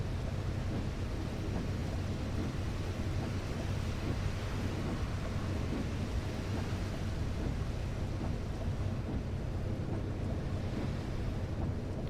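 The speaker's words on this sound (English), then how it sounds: "That rain's definitely just got a bit worse as well." Steady rain in the Fernbus Coach Simulator driving game, a dense continuous wash of noise with a low rumble beneath, even and unbroken throughout with no voices.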